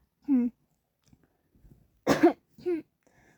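A single harsh cough bursts out between short vocal sounds, close to the mic, with near silence around it.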